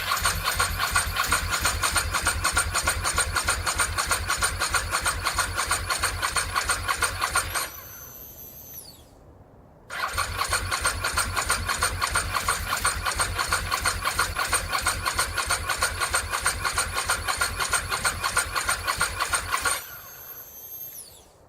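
Ducati 916 motorcycle engine cranked on its starter with the fuel pump outside the tank, a rapid loud rhythmic churning that cuts out, pauses near silent, then churns again before stopping, no talk.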